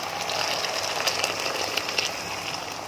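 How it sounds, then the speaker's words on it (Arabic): Water poured from a container into dry sautéed rice for homemade Egyptian koshari, a steady close gush with a light sizzle as it hits the hot pot, running continuously throughout. "ابتدي بقى احط الميه"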